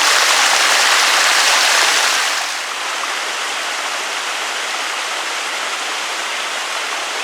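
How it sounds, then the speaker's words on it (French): Steady rain pours down on a mountain trekking trail near Prapic, a dense, even hiss that is louder for the first two seconds and then settles slightly softer but constant, with no voices. "voilà ce que ça donne au niveau de la pluie. Donc au plus on monte, au plus il pleut."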